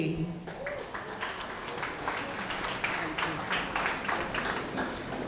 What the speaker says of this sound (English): please give a warm round of applause to Michelle Dede.